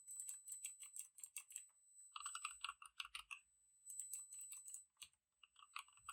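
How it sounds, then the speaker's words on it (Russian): Keystrokes on a Keychron C1 keyboard come in quick bursts of crisp clicky taps, separated by brief pauses, recorded close and fairly quiet with no talking. "Так, теперь послушайте звук."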